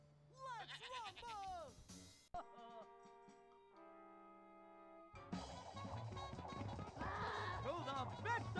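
Cartoonish goat bleats from the Ed, Edd n Eddy: The Mis-Edventures video game, a few wavering calls at the start, then chiming tones and busy game effects with voices.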